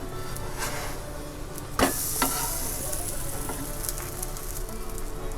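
Turkish flatbread sizzles in a buttered pan after being flipped, a steady soft hiss with a couple of brief clatters of the pan or utensil partway through.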